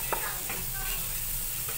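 Ginger sizzles in a pan while being stirred for cooking liver, a soft steady frying hiss broken by a few quick scraping strokes, heard close and fairly quiet with no talk.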